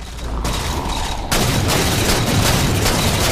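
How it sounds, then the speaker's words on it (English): A heavy, continuous booming roar from an incineration cannon in the video game Halo 4, loud and dense, surging sharply louder partway through with no talk over it. "Oh, the incineration cannon."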